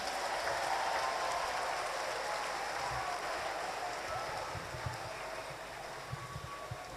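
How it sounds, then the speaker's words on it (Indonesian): Sustained applause from a large church congregation at a Sunday service in Ambon, a dense wash of clapping that holds steady and tapers slightly toward the end. "Tepuk tangan untuk kita semua."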